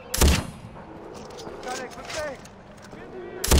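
In Far Cry 4, a sharp game gunshot cracks out, with a second shot following about three seconds later, while voices chatter in between.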